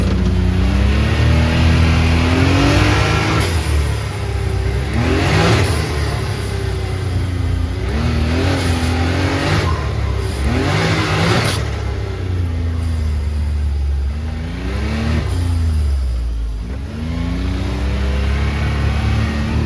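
A Can-Am Maverick X3 side-by-side with a newly installed blow-off valve revs up and down repeatedly while driving, with rising and falling pitch sweeps and brief whooshing bursts between throttle changes, loud and close.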